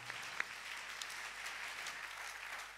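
A congregation claps together at an evening church service. The applause is faint and continuous, a steady wash with a couple of sharper claps near the start.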